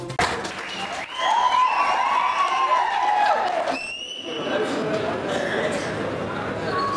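An audience at a political meeting in Darsi claps, with loud, sustained applause building and then settling into a steady patter, and a speaker's voice comes through over it.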